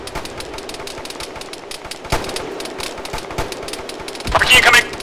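Arma video game combat in a ShackTac session, with dense, continuous bursts of rifle and machine-gun fire cracking near and far, plus a louder flurry toward the end.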